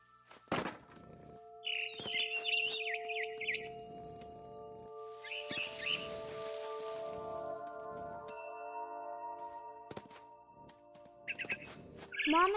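Barn swallow chirps in What Remains of Edith Finch: a few short bursts of high twittering over a steady tonal game ambience with faint thuds and rustles.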